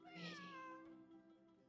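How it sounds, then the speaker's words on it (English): A cat meows in the Genshin Impact video game, a single drawn-out call with a clear falling pitch that rings out loudly near the start and then fades over the following second. "It really is a cat."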